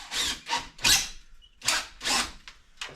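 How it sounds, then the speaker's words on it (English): Power drill boring into a part for a homemade gold hand dredge pump, sounding as a series of about seven close, loud grinding bursts, each under a second, separated by short pauses. "I knew I was going to be drilling in this."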